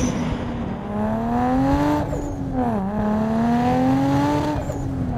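Tuned 700 hp Toyota Supra race car with a sequential gearbox, its engine note rising and dipping through boost under a brief tire chirp, loud and close with no talk.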